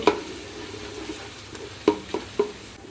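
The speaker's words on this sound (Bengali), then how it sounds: "পরিমাণ মতো তৈল দিয়ে দিব পেঁয়াজ কুচি দিয়ে দিব হালকা একটু বেজে নিব" Chopped onions frying in oil in a pot, a steady sizzle with a few sharp spoon knocks and scrapes toward the end, close and clear with no talking.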